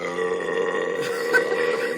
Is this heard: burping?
yes